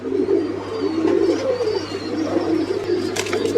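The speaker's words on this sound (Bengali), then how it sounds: "আর রাজন ভাইয়ের কাছেও দেখতে পাচ্ছেন কবুতরটা।" Pigeons on a pigeon farm in Tangail coo in low, repeated throaty rolls, steady and fairly close, with a few faint chirps and a constant hum behind them.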